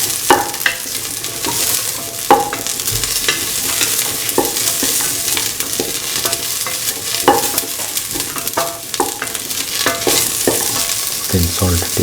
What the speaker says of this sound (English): mix the cauliflower pieces with the shallots and the